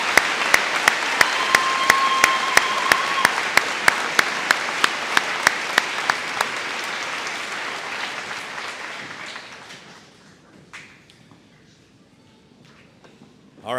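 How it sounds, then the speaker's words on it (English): A graduation crowd applauds steadily for honor students, broad sustained clapping with a few sharp rhythmic claps standing out, holding for several seconds before fading away to near quiet. "How about a round of applause for these amazing accomplishments?"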